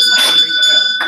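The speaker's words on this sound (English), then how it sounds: "This bell will keep ringing anytime anybody goes over the time." A conference timer bell at an engineering education conference session rings in bright, sustained tonal bursts, loud and close, with a room voice speaking underneath.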